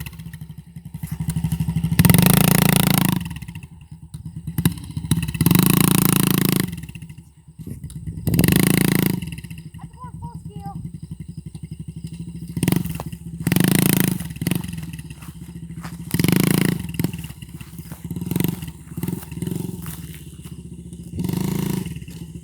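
A dirt bike or moped engine revs in repeated loud bursts, each throttle blip rising and falling with short idle gaps between them, close by and with no talk.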